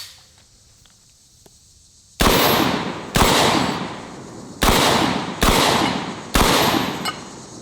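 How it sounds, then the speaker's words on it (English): A Typhoon F12 12 gauge shotgun firing at a Texas Star steel target outdoors, five loud close blasts each trailing off into an echo, spaced about a second apart after a quiet start. "One thing we have to do with every shotgun is clear the Texas Star."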